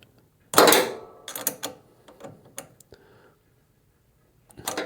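A part being snugged up by hand on a 1968 Camaro, a run of close metallic clicks, scrapes and ratcheting taps in short bursts separated by quiet gaps.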